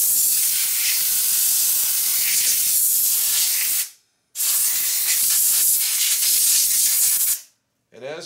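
Compressed air blasts dust off a worn fiber clutch plate from a Harley-Davidson dry clutch, two long loud hissing bursts separated by a brief pause, close by with no talking.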